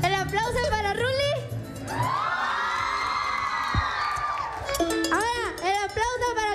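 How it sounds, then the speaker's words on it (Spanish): A game show audience breaks into cheering and shouting for a contestant after a host's voice. The crowd noise swells in the middle, then gives way again to talking. "El aplauso para Rulli."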